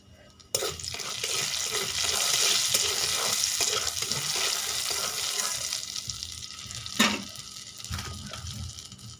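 Panch phoron spices hitting hot oil in a pan, a sudden loud sizzle that holds as a steady hiss for several seconds before easing, close and with no talking.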